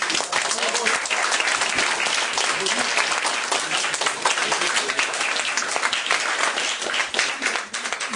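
An audience at an association launch event applauds with sustained, dense clapping that carries on steadily, with a voice faintly mixed in beneath it.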